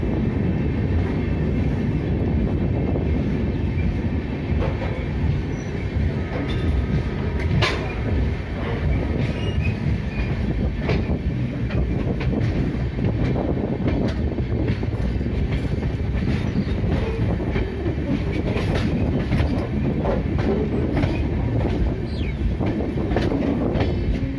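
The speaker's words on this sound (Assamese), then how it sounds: "ট্ৰেইনৰ টাৰ্ণিং চাই লওক।" A train rumbles steadily along the rails near New Jalpaiguri station for the whole stretch, with rhythmic clatter of wheels and occasional faint squeals, loud and close, no voices.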